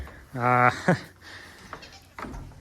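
Goats bleat inside a dark barn before a winter storm: one long, loud harmonic bleat followed by a shorter one, then fainter calls farther back, with no talking.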